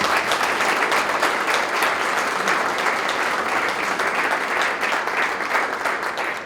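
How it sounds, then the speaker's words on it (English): Loud, dense applause from a crowd at a high school topping-off ceremony, sustained evenly for several seconds without a break. "I want to give Paul a big round of applause for that"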